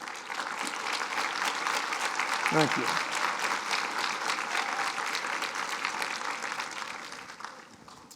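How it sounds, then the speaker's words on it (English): Lecture audience applause, sustained even clapping from a large hall that holds steady for several seconds before tapering off, with a brief spoken thanks partway through. "It's the nurses who really need the round of applause."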